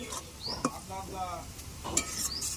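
A spatula stirs food in a pan over a wood fire while it sizzles, with several scraping strokes and a couple of sharp metallic clinks, close and fairly quiet.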